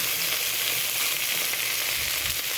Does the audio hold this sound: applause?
no